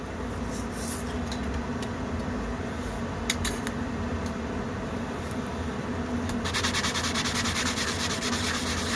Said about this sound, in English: give it a good sand on both sides